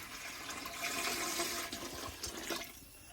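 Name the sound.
water poured into a cooking pot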